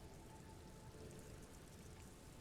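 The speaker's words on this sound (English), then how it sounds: "It's raining." Steady rain from the video game Disco Elysium, a soft, continuous wash of falling drops that holds even and moderately loud throughout with no voices over it.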